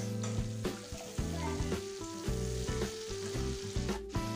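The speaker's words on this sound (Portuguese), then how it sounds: "Agora que já dourou a nossa cebola, vamos adicionar 2 dentes de alho" Minced garlic fries with browned onion in a pan, giving a close, steady sizzle with crackles and occasional stirring scrapes throughout.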